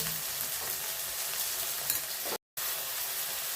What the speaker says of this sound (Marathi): आणि 1 टमाटर बारीक कापून घेतलं ते घालूया.